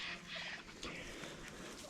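Turkeys in a mobile outdoor pen give soft gobbling and clucking calls. The calls are faint and scattered over a low background hum.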